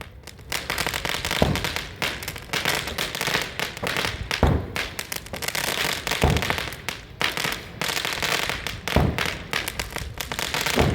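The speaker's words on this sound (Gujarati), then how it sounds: "પચાસ ધડાકા મૂક્યા છે એક." A long string of fifty firecrackers bursts in rapid, continuous crackling pops at an Uttarayan celebration in Surat, with a few heavier bangs standing out, loud and close throughout.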